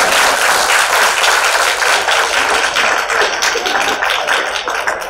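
An audience at a school annual day prize-giving breaks into loud, sustained applause, dense clapping that holds steady throughout and fades slightly at the end.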